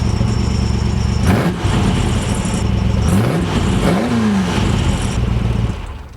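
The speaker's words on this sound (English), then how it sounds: "all you hear is just the engine sound, and it's just got an incredible sound." A race car engine revs loudly and close up, its pitch sweeping up and down in several surges over a steady roar, with no talking.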